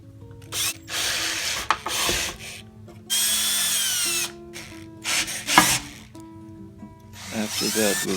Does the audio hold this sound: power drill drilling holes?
yes